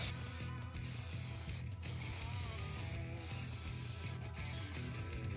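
Aerosol coating sprayed onto car wheels in a series of hissing bursts, about four or five close passes separated by short gaps, with faint mechanical clicks underneath.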